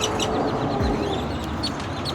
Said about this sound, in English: I don't think you can hear me because of them birds